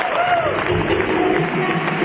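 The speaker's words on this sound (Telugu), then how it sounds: "వాళ్ళ కోసం ఒకసారి బిగ్ క్లాప్స్" An audience at a Telugu motivational speech event gives a round of applause, with clapping spread across the room and some crowd murmur and voices underneath.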